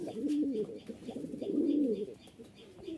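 Caged pigeons, fancy and Giribaj birds, cooing in low rolling phrases close by, several overlapping coos building and fading across the stretch with light background rustle.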